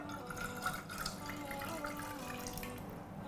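Water poured into a sauce pan with sriracha, soy sauce and ketchup for a mac and cheese ball sauce, a steady close trickling splash running throughout.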